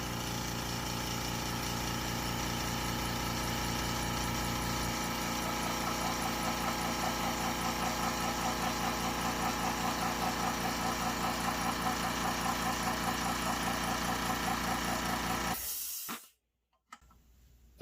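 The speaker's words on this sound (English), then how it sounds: "Let's count and see how many seconds it takes to fully recharge the tank." A Fortress ultra quiet air compressor runs steadily and loudly for about fifteen seconds as it recharges its tank, a constant motor drone with a rhythmic pumping flutter, then cuts off abruptly into near silence.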